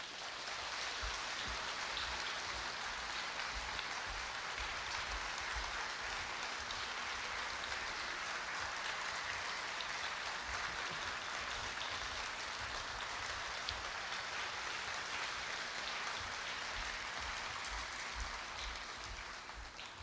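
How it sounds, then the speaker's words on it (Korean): Steady, dense clapping from a large crowd at a Korea University 110th anniversary ceremony, sustained at an even level throughout with no voices on top. "따뜻한 박수 부탁드리겠습니다"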